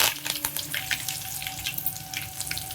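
Crackling, spitting sizzle of mustard seeds, cumin, fenugreek and curry leaves frying in hot oil, steady and close, with light popping throughout.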